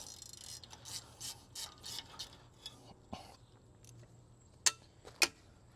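A ratchet with an H6 Allen bit works on a BMW U11/U10 brake rotor screw, giving a run of quiet, close clicking strokes, followed by two sharp metallic clinks.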